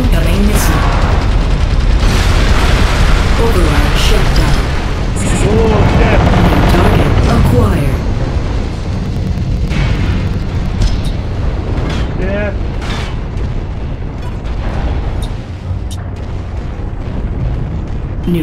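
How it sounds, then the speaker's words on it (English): Missile explosions and heavy booms pound continuously in a mech combat game, loud and dense, mixed with a mechanical rumble, while a voice speaks over the din. "Incoming missile."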